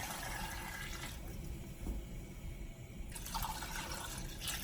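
Water poured into a pot of gumbo with snail, tomato and onion, a soft continuous splashing fill that swells at the start and again near the end, quiet and close.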